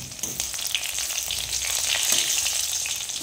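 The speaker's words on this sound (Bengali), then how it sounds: "ফোড়নটা একটু ভাজা ভাজা হয়ে গেছে" Crushed garlic, green chillies and black cumin fry in hot oil as a tempering, giving a loud, continuous close-up sizzle with faint stirring throughout.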